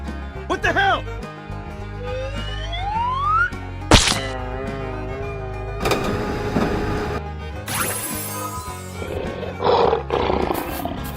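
A cartoon lion gives a loud, close roar, alone at first, then joined by other animal effects and background music in a playful animal transformation game.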